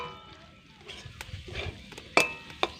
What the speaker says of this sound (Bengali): এবার একসঙ্গে সমস্তটা আরও 2 থেকে 3 মিনিট খুব ভালো করে কষিয়ে নেব